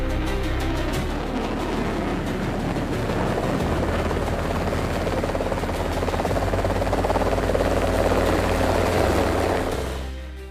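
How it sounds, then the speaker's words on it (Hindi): Sarang helicopters and Surya Kiran jets of the Indian Air Force performing at an air show over Jaipur, a loud sustained rotor-and-engine roar that fills the air throughout and swells slightly before easing off at the end. "सूर्य किरण विमान और सारंग हेलीकॉप्टर की टीम ने आसमान में अपनी काबिलियत का लोहा मनवाया"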